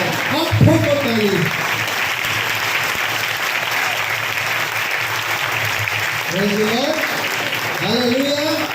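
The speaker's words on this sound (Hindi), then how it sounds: "अब ठोको ताली।" Church congregation clapping together at an anniversary celebration, a continuous, full round of applause with a voice speaking briefly over it at the start and again near the end.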